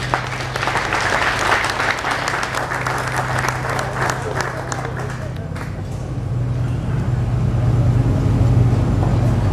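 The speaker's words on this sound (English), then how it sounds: "Give him a hand." Outdoor audience applauding volunteers beside an old Snow engine at a Florida Flywheelers show, sustained clapping that fades after several seconds over a low steady engine hum, with talk mixed in.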